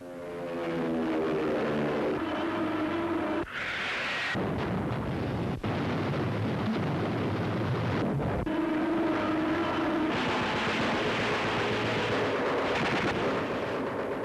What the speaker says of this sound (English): Napalm sprays over a guerrilla strong point.